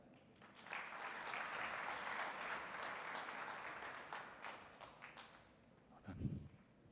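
An audience claps after a presentation at a desalination innovation prize event, a fairly quiet, distant wash of applause lasting several seconds that gradually thins, ending with a brief low thump.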